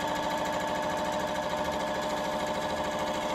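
Sewing machine stitching quilt panel strips, a purple edge joined to a gray edge, running at a fast steady rattle with an even mechanical pulse, close and continuous.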